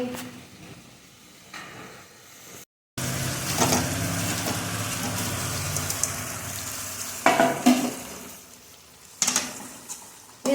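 Veg Manchurian is stir-fried in a pan, with a steady close sizzle and the scrape and clatter of a stirring utensil, the sharp scrapes coming in short bursts.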